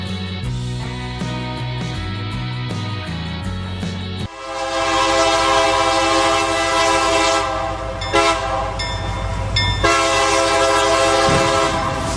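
A train sounds its horn at a railroad crossing: sustained, loud horn blasts with rumbling rail noise throughout, growing louder and fuller partway through as the train draws near.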